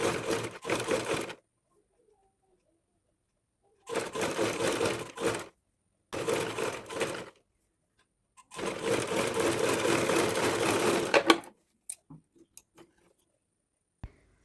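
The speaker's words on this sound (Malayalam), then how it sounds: "അരികത്ത് കൂടെ ഒന്ന് സ്റ്റിച്ച് ചെയ്ത് കൊടുക്കുക" Sewing machine stitching along the edge of a garment neckline in four separate runs of varying length separated by silence, followed by a few faint clicks and handling noises at the end.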